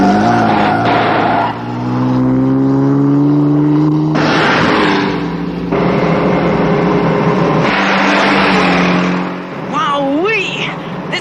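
A supercharged car engine roars and revs hard, its pitch rising and falling through gear changes, with tire squeals and skidding, while voices talk over it.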